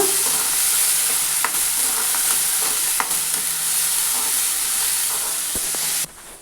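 Chicken curry masala frying in a pan while being stirred, a steady loud sizzle with scraping strokes of the spoon and occasional clinks, ending abruptly; no one speaks.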